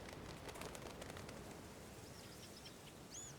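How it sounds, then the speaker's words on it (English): Birds in the video game Life is Strange: Before the Storm give soft coos and a few short chirps over steady outdoor ambience, fairly faint and somewhat distant, with a brighter chirp near the end. "Birds?"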